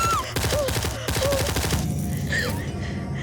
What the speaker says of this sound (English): You have gunfire taking place. In an 8 by 10 foot room, it would be deafening.